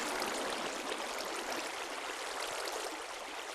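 Water streams steadily from placed blocks in Minecraft, a continuous soft rushing hiss with no breaks and no voices.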